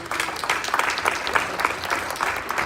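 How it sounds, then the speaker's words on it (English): Audience applause at a school board meeting, honoring the board after graduation rates reached 95%: a steady wash of many hands clapping, fairly close and even, with no voices above it. "So I want to give everyone a big round of applause to the board."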